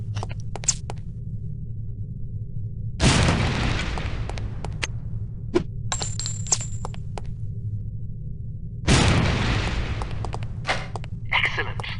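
Lipstick explosive detonating in the video game No One Lives Forever: two loud, broad bursts about six seconds apart, each decaying over a few seconds, amid a low steady game drone and scattered clicks.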